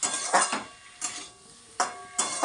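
Metal utensils clatter against a cooking pot while jackfruit curry is prepared, about five sharp clinks and scrapes in uneven bursts, close and fairly loud with quiet gaps between.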